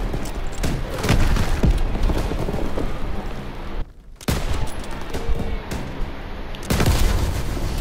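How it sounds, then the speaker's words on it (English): A big, loud explosion in the video game Call of Duty: WWII rumbles and crackles, with a brief drop before blasts and debris-like bursts continue, dense and booming throughout. "Whoa, that was a big explosion."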